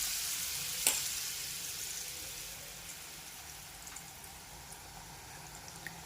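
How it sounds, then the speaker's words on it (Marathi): Batata vada balls fry in hot oil in a kadhai, with a soft continuous sizzle and one sharp crackle early on, then quieter popping. "हाताने किंवा मग चमच्याने तेलावर ते सोडून घ्यायचंय आपल्याला."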